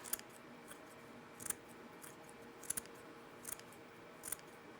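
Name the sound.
scissors cutting sisal rope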